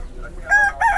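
A rooster at the Sokuluk livestock market lets out a short, loud crow close by, broken into two bursts against a low market background.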